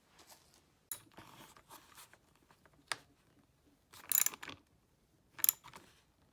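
Bolts are tightened on a handguard by the clutch lever of a Kawasaki KLX dirt bike. Sparse close clicks and short ratcheting bursts come with gaps between them, with no talk.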